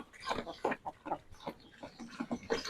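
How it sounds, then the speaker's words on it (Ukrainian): Hens clucking in short, irregular bursts while eating grain feed, close by, with several birds calling over one another. "Це кури, бачите, там он дерть,"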